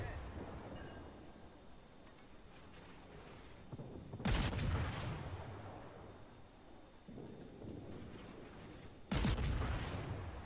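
Naval guns fire in World of Warships, a loud broadside booming twice several seconds apart, each blast trailing into a long rumbling roll amid a steady low battle din.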